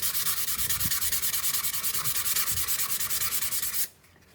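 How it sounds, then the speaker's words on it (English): Hand sanding a fog lamp lens from a Mk5 GTI: a steady rapid back-and-forth scratching rasp, close and loud, rhythmic strokes running continuously before stopping abruptly near the end. "I'm gonna just go old school and sand it down by hand"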